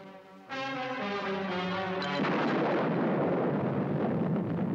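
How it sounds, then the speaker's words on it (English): A deep, heavy rumble swells suddenly and builds into a broad, roaring blast that keeps rolling loudly to the end, like a huge distant explosion: an atomic bomb test detonated on a tower in a lagoon. "The A-bomb, mounted on a tower in a lagoon, turns the sky white at the moment of detonation."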